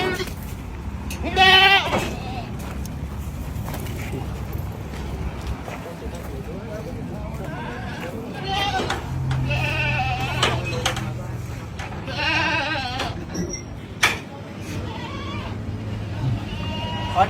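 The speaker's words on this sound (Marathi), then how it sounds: "हा डायरेक्ट 2 पिकअप भरून बकरे आणलेले." Goats bleat repeatedly while being unloaded from two pickup trucks at a roadside hotel, several overlapping calls near and far amid steady background bustle and people talking.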